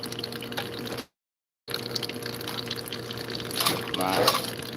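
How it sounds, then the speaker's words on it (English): Water runs onto a Nova lapidary grinding wheel while fire agate is shaped, a steady trickle and splash that cuts out briefly, then returns a little louder. "Turn on my water."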